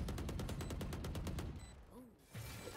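Rapid gunfire in the tactical shooter Valorant, a fast regular burst of about a dozen loud shots followed by a quieter stretch with a short voice.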